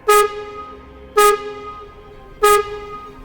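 Horn from the train in the video game Voidtrain, sounding three short, loud honks spaced about a second apart, each a bright, harmonically rich blast that sounds more like a car horn than a train whistle, with no voices.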